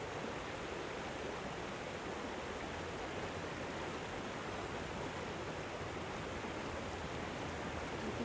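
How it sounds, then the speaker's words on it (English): A babbling brook runs steadily with a constant, soft, even rush of flowing water and no other sounds. "just listening to the brook, the sounds of nature"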